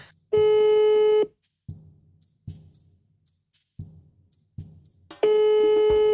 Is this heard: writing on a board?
no